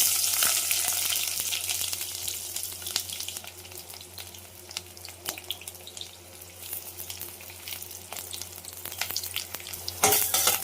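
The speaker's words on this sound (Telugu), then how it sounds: "ఆయిల్ వేడైంది కదా, ఉల్లిపాయ వేసేసుకున్నాం." Onions fry in hot oil in a pan where okra has just been fried, a bright, continuous close sizzle with crackling pops and occasional stirring clatter, surging louder near the end.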